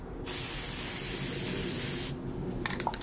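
Paint sprays from an aerosol can onto a towel in a steady, close hiss lasting about two seconds, then stops, followed by a few faint taps and handling sounds.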